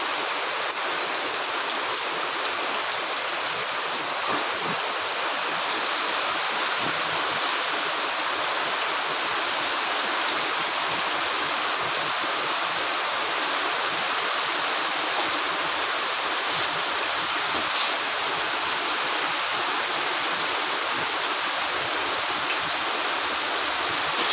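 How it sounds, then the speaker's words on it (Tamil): Heavy rain pours without pause at a bus station. It makes a loud, steady, close hiss with no break, and no voices can be heard. "கனமழை தொடர்ந்து பொழிந்து கொண்டிருக்கிறது"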